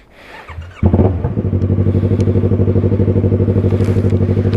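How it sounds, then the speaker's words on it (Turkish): A Yamaha R25 motorcycle engine fires up close by and settles into a loud, steady, throbbing idle with a rapid pulsing exhaust note. "Egzoz sesi."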